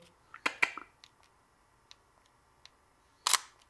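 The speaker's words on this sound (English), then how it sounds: "I took a photo." Sony A6000 camera shutter fires: a sharp double click near the start, a few faint ticks in the quiet, then another loud click near the end, all close by.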